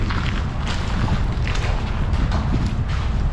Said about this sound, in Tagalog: pasensya na po kayo sa hangin